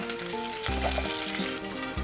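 Curry leaves crackling in hot oil with mustard seeds, fenugreek and hing for a bitter gourd pitlai, a dense close sizzle with some low clunks of a pan being handled.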